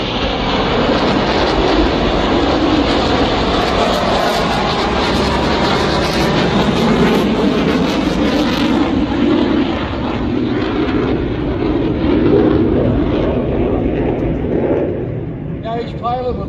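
US Navy Blue Angels jets in diamond formation pass low overhead in a break cross at NAS Pensacola, Florida: a loud, sustained roar that swells and fades over many seconds, heard from the ground.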